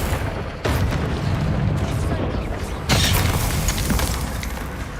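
A Bombarda spell blast in the game Hogwarts Legacy, two loud booming explosions about two seconds apart over a rumbling game soundscape.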